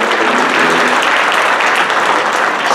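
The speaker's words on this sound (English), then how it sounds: "let's give him a round of applause" An audience applauds at the Babscon 2018 charity auction, loud, sustained and dense clapping from a crowd that fills the room evenly and has no speech over it.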